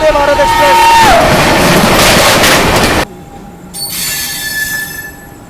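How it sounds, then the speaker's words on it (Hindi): Lichchavi Express passenger train running fast on rails, a loud steady rumble with a squealing wheel tone that drops near the start, then cutting abruptly to a quieter hum midway, as if doors or a window closed. "गाड़ी बढ़िया भाग रही है"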